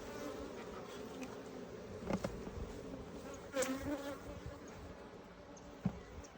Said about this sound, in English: That's some happy bees.